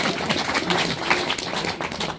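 An audience claps at a permaculture talk during a seed exchange in the San Luis Valley, a loud, dense patter of many hands that stays steady for a couple of seconds.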